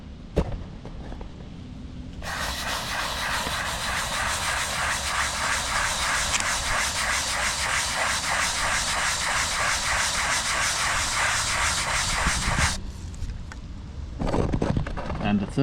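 Stiff brush scrubbing dish soap into an oil stain on a concrete driveway, a loud, continuous rasping scrub for about ten seconds, with quieter handling sounds before and after.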